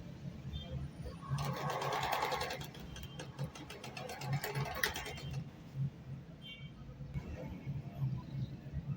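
A sewing machine runs steadily, stitching all round a sleeve cuff in contrasting thread, with a fast mechanical ticking rhythm that swells and eases as the seam is sewn, close and moderately loud.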